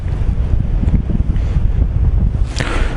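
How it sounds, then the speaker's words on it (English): Strong wind roars and buffets against the microphone while paragliding, a loud continuous low rumble with gusting surges and no voices. "I think the wind will be a lot less as we get lower"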